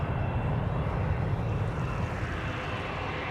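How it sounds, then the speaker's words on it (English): Jet engines of a Delta Airbus A330-300 roar steadily at Amsterdam Schiphol's Polderbaan, a broad, even rumble that eases slightly toward the end, heard from a distance. "I thought I heard it spool up, and I think both engines are now running again."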